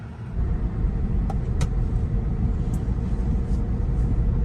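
Tesla Model Y cruising along twisty back roads, a steady low road rumble and tire noise filling the cabin throughout, with a couple of faint brief clicks on top and no talking.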